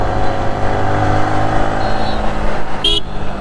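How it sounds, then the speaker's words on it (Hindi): Road traffic in Vizag rushes past a motorbike rider on an R15 V3 during a long ride, a loud, continuous engine and wind roar with a brief horn toot near the end. "बड़ा ख़तरनाक ट्रैफिक है भाई यहाँ पे"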